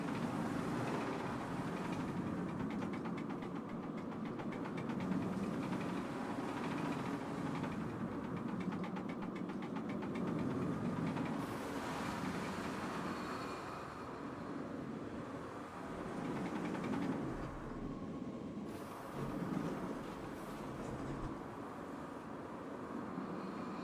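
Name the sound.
roller coaster car wheels straining on track, Planet Coaster video game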